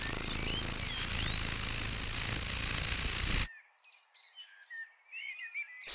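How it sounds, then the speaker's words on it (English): A sparrow chirps in several short, bright calls after a harsh burst of broadband noise suddenly ends partway through. "Sparrow"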